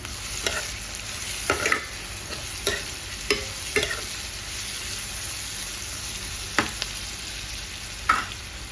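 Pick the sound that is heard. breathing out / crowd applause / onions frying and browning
onions frying and browning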